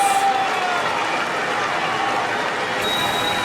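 Loud, sustained cheering and applause from the sumo crowd at Ryogoku Kokugikan after Ura secures his winning record, a continuous roar with a commentator's voice faintly woven through it.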